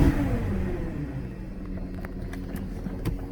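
A Porsche Cayenne Turbo with a fully stock exhaust gives a short throttle blip toward 2000 rpm, a brief rising engine note that settles back to an idle rumble, close by.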